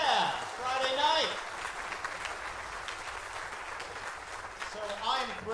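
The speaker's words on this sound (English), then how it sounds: "Give yourselves a round of applause." An audience at an evening percussion concert breaks into a broad wash of clapping that swells and fades, with a presenter talking into a microphone at the start and again at the end.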